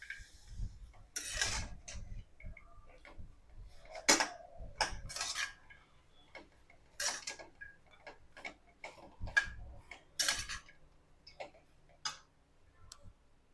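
A spoon mixes soaked puffed rice (mandakki) in a bowl for North Karnataka mirchi mandakki, giving irregular close clinks and scraping taps against the bowl with short quiet gaps between strokes.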